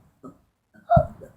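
A single sharp hiccup rings out clearly after a soft vocal sound, set against otherwise near silence.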